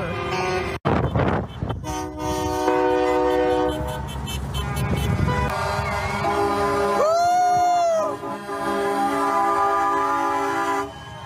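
Freedom convoy of trucks and cars rolls along a highway from Edmonton toward Calgary, horns blaring repeatedly in long overlapping blasts near and far, with a rising air-horn whoop over traffic rumble and voices.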